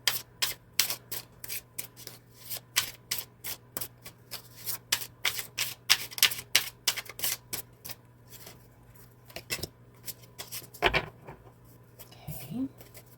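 A card is drawn from a deck, with a long run of quick rhythmic flicks and riffles as cards are shuffled and handled up close, then a louder thump and softer rustling near the end.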